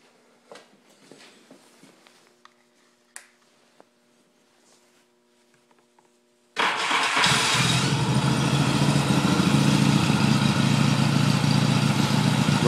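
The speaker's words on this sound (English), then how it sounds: "Starts right up here. I'll start it for you." A Yamaha XS650 motorcycle engine cranks and fires after a quiet stretch of small handling noises, then settles into a loud, steady, close running idle that continues to the end.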